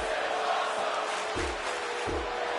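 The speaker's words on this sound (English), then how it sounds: "You can hear the crowd." A roaring virtual arena crowd from the WWE 2K20 video game, a steady dense wash of cheering with a couple of low thuds underneath, loud and continuous.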